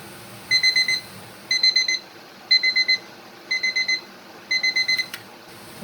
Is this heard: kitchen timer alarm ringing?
yes